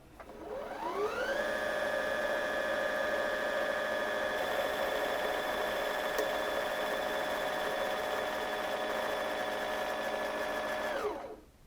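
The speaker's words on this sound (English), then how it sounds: "you can see how it sort of sputters and stops there, and it's not winding anymore" EverSewn Sparrow 25 sewing machine winding a bobbin, its motor spinning up into a steady, loud, even whir that holds for about ten seconds before winding down and stopping.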